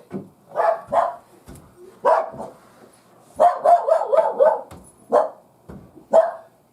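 A dog barks loudly and close by, single barks at first and then a rapid excited string of yaps, with short pauses between bursts and no talking.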